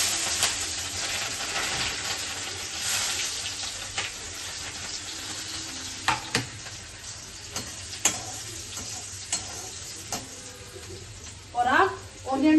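Garlic and green chillies sizzle in hot oil in a kadhai while chilli paneer is being made: a steady close crackling hiss with sharp ticks and pops scattered throughout, a voice briefly audible near the end.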